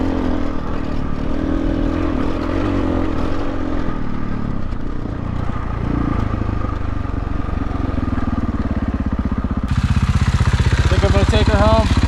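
A KTM motorcycle, either the 500 EXC-F or the 890 Adventure R, revs and pulls while riding off-road, with the engine droning and surging continuously and voices talking over it.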